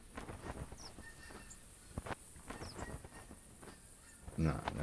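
Flying geese honk repeatedly at a distance in open countryside, faint calls spread through a breezy outdoor hush, with a short bump of nearby noise near the end.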